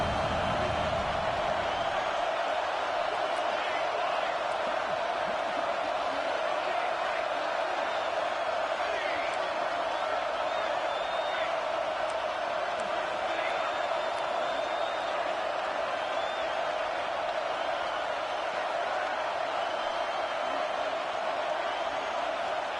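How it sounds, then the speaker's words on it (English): Home crowd in a college football video game, Ohio State against Ole Miss, on a fourth-down play, a dense steady roar of cheering held at an even level for the whole stretch with faint commentary underneath. "Home crowd trying to make a difference on 4th down."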